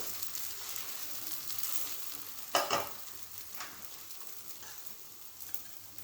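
Oligalu flatbread cooks on a hot pan just after flipping, a quiet, steady sizzle running throughout with one brief louder scrape or clatter near the middle.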